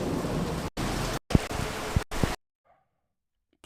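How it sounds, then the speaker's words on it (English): Steady outdoor rain pours as a dense, loud hiss with a few low thumps, broken into choppy stretches that cut in and out before dropping to near silence. "Sitting in the rain."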